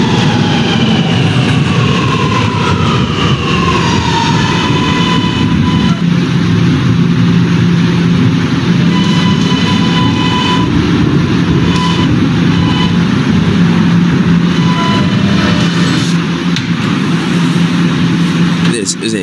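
An R train bound for Ridgeworth Island via the N line rumbles along with a continuous low roar, rising and falling motor whine and scattered rail clatter, heard loudly from inside the car throughout.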